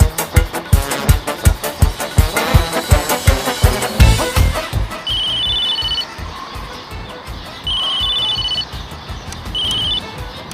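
A telephone rings in a repeating electronic pattern, several short trilling bursts with pauses, heard at moderate level after a stretch of rhythmic engine-like thumping in a TV comedy scene.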